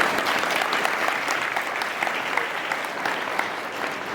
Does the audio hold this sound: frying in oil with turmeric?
no